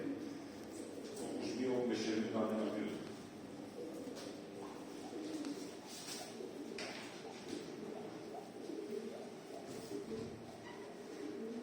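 Pigeons coo repeatedly at close range in a loft where young birds are kept, a steady murmur of low calls layered under someone talking throughout.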